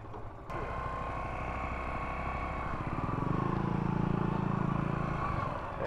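A Bristol Veloce dual-sport motorcycle engine idles and rumbles steadily after a brief knock, growing slightly louder midway, with a low throbbing pulse and no voices.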